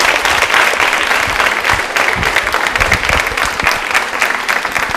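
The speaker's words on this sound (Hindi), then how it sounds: "तालियां जोरों से बजाइए इनके लिए" Loud, sustained applause from a crowd at a quiz show at a women's polytechnic college anniversary event, steady clapping filling the whole stretch without pause.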